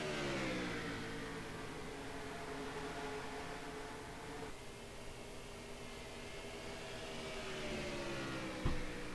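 Chevrolet race car engine at speed in a racing video game at Darlington, a steady loud revving drone with harmonic whine that dips and climbs, with a brief thump near the end.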